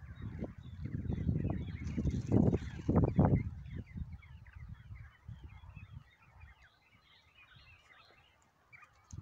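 Several small quail in a backyard trap give busy clucking and chattering calls, loud and dense at first, then thinning to scattered soft chirps, with no talking.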